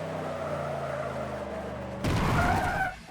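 In Forza Motorsport 7, an Audi RS engine drones steadily before a sudden burst of tire skidding from a handbrake turn, loud for about a second, then fading.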